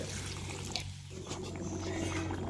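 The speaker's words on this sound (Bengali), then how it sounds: "এরপর ঝোলের জন্য দিয়ে দেব পরিমাণ মতো গরম জল" Hot water pouring into a pot of simmering desi chicken curry in a village kitchen, a steady close trickle and splash lasting a couple of seconds, no speech.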